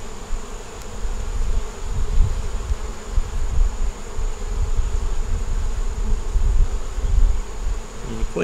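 Honey bees swarm in a steady, dense, close buzz over an open, honey-bound hive during an inspection, continuous and fairly loud throughout.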